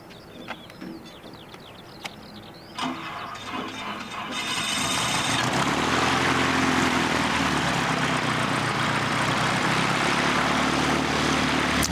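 A propeller airliner at Christchurch Airport, New Zealand, runs up loud and close, a steady broadband engine roar building after a few seconds of quieter ambience with faint chirps.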